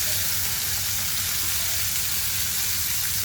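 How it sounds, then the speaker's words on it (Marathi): Spring onion sautéing in hot oil with cumin, mustard seeds and garlic, giving a dense, even sizzle that stays at the same loudness from start to finish. "कांद्याची पात व्यवस्थित परतून घ्यायची आहे"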